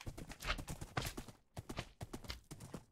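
Horse hooves clip-clop in a steady, brisk rhythm in Minecraft, a run of close, clear hoofbeats with a brief pause partway through before the trotting resumes.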